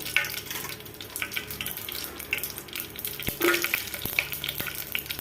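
Mustard seeds crackle and sizzle in hot oil for a carrot fry, a continuous close frying hiss dotted with sharp pops and spatters, no talking.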